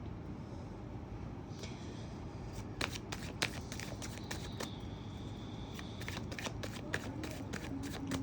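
Tarot cards riffled and shuffled by hand in a string of crisp, snapping bursts that speed up toward the end, close by over a steady low background hum.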